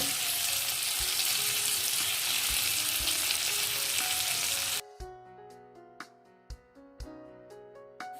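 Onions, garlic, ginger and green chilies frying in a pan for paneer masala give a loud, dense, continuous sizzle up close, which cuts off abruptly into plucked melodic music.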